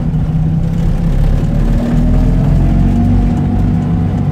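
A Fiat 500 engine pulls steadily through second gear, its loud mid-pitched drone rising gradually in pitch under a constant road rumble, with no talking.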